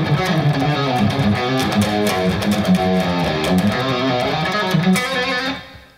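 Overdriven electric guitar plays a third-verse part of a song, with chugging riffs and quick fills, loud and steady before trailing off at the end.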